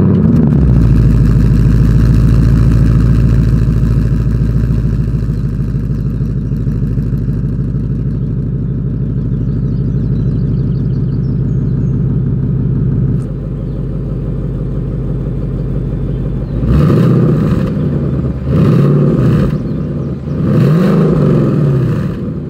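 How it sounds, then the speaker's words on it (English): Deep V8 exhaust of a 2020 Ford Mustang GT idling with a loud burbling rumble, then several sharp revs rising and falling near the end, close by. "let's go ahead and do that exhaust clip."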